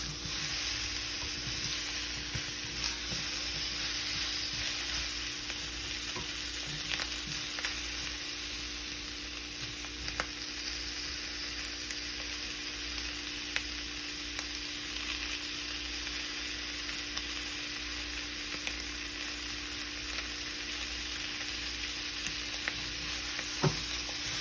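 Food frying in a pan until browned gives a steady, even sizzle that runs throughout with a few faint clicks and stirring touches, close and without speech.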